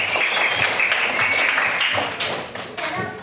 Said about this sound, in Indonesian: Tepuk tangan buat Rasid.